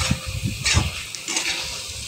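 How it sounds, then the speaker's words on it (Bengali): Spice paste with chopped tomato and a little salt sautéed in a pan, a steady hiss of frying broken by a few soft scraping strokes of a spatula; short, close and without speech. "এবার এর ভিতরে মশলাটা আমি অলরেডি দিয়ে ভালো করে কষাচ্ছি"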